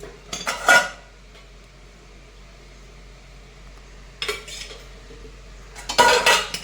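Oiled dhokla steaming plates clatter and clink as they are handled and filled, with three short bursts of metallic rattling near the start, middle and end separated by quiet room hum.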